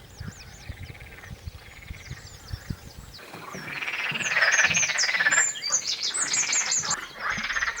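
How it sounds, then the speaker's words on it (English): A loud chorus of frogs croaks beside a Camino de Santiago trail, rapid repeated calls that swell and grow louder midway, with a few bird chirps mixed in and no talking. "Those are some serious frogs."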